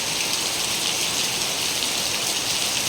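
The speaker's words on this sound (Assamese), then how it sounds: "এইটো দবা পিটা বৰষুণ দিছে" Heavy monsoon downpour drums steadily over a small home flower garden, a dense, loud, unbroken hiss with no voices.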